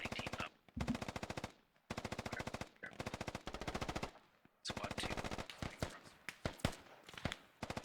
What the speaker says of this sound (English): Oh man, there is a lot of gunfire going on.